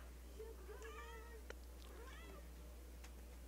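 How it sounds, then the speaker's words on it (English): A pet cat meows a few times close by in a quiet room, short drawn-out calls separated by pauses, over a steady low electrical hum. "Just petted my cat"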